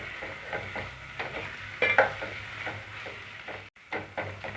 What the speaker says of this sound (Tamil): இஞ்சி பூண்டு பேஸ்ட்டு நல்லா பச்சை வாடை போகிற வரைக்கும் வதக்கிக்கிட்டே இருங்க